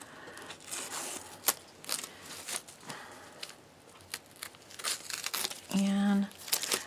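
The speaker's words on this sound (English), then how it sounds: "take the tape off, and we are going to trim excess fabric now" Tape is peeled off the fabric of an in-the-hoop embroidered wallet, making close, crackly ripping and crinkling bursts in an uneven rhythm. A short steady tone sounds near the end.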